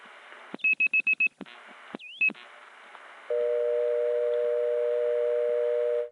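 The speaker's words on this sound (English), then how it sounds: "has an unusual dial tone" An unusual PBX telephone dial tone from a 1976 recording of life insurance tie-lines: quick dialing tone bursts and clicks, then a steady, clear dual-pitched dial tone holding alone for about three seconds.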